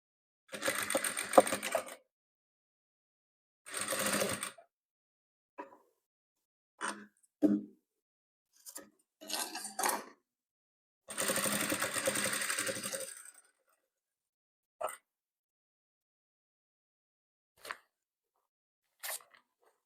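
A sewing machine stitches patchwork quilt pieces in short, close bursts of rapid whirring, separated by quiet pauses and a few brief clicks toward the end.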